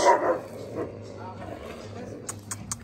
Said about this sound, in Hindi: यार कुत्ते लड़ पड़े, ओए कुत्ते लड़ पड़े